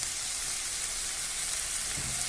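Chicken and tomato sauté in a pan for a chicken gravy, giving a dense, even sizzling hiss that holds steady at close range without a pause.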